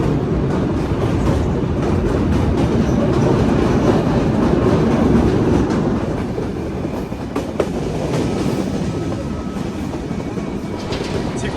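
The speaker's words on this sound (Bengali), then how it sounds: "আমরা এখন ঝিকরগাছার উপরে যে রেল ব্রিজ আছে রেল ব্রিজ পার করছি" A train, the Ruposhi Bangla Express, crossing the railway bridge at Jhikargachha rolls steadily with a dense, continuous rumble and faint rhythmic clatter, heard from on board, loud and sustained throughout.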